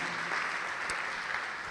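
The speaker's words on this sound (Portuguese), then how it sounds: "Vamos aplaudir ao Senhor Jesus" A church congregation applauds during a sermon, producing dense, steady clapping throughout that sounds somewhat distant and moderately quiet.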